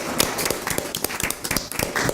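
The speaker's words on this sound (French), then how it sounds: "Applaudissements s'il vous plaît." A studio audience at a French TV talk show claps in a dense, lively patter of close hand claps, with some murmuring underneath.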